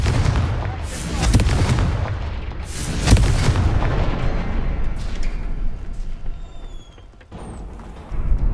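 Confringo spell explosions in the video game Hogwarts Legacy, a series of booming blasts with crackling bursts, loud and close, trailing off into quieter rumbles and a few faint chimes.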